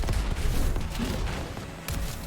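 A thrown ball blowing up in the arena shooter Diabotical: dense, loud bursts of in-game explosion and gunfire crowding the whole clip, with no talk over it.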